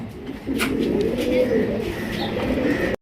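White Beauty pigeons coo in soft, low, rolling phrases, close by, with a faint chirp or two in the background.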